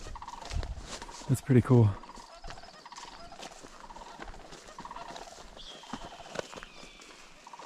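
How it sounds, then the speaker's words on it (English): A sandhill crane calls outdoors on a Yellowstone trail, a brief loud rattling burst of trumpeting notes, followed by quieter ambient sound and a person speaking briefly. "No, that's a sandhill crane."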